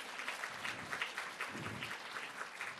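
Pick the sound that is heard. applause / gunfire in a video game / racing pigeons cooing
applause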